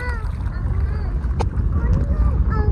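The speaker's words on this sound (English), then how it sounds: "It's getting windy." Wind gusts buffet the microphone beside Lake Buchanan at Black Rock Park, a loud steady rumble throughout with people speaking over it.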